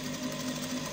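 A sewing machine stitches around the neck of a kimono jacket, with a fast, even whirring hum that is quiet and steady and is heard alone.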